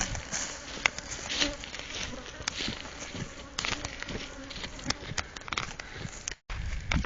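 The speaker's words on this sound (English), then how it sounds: "The bees are busy chewing open the honeycomb." Honey bees swarm around an opened hive super, their dense, steady buzzing loud and close with individual insects droning past the microphone, continuous throughout with only a brief gap near the end.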